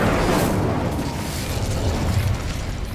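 A fire spell is cast in Hogwarts Legacy, heard as a dense, loud roaring whoosh of flame with rumbling low end that stays strong throughout.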